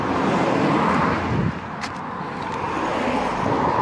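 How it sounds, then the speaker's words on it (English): Road traffic along a roadside walk near Tillington, a continuous wash of passing cars with a louder swell early on before easing to a steady hum. "I'm sorry about all the car noise"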